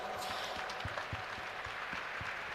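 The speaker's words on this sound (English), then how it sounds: "a big round of applause for the rebuttal" Fairly quiet applause from a debate audience after a rebuttal at a technology summit in India; scattered claps patter steadily through the whole stretch with no voices over them.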